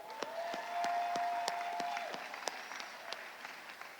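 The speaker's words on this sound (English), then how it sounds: "everybody that had a hand in it needs a recognition and an applaud right now." Scattered applause from a small crowd at a Louisiana State University Shreveport (LSUS) title celebration, sharp separate claps over a tone that stops halfway through, moderately near and fading toward the end.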